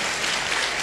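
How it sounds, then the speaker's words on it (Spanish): A church congregation claps together in steady, dense applause, loud and close, filling a short burst with no voices on top. "Con un fuerte aplauso al hermano"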